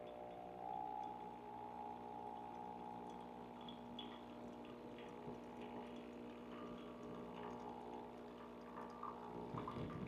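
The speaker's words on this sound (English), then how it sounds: "It's going to start delivering hot water out of the hot water port." An espresso machine pumps hot water out of its hot water port in a steady, faint mechanical hum with a soft liquid trickle, continuous and unbroken throughout.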